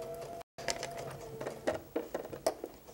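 A sewing machine stitches off the end of a quilt seam onto an anchor cloth in a brief run of quick, rhythmic needle taps after a short gap, fairly close and moderately loud.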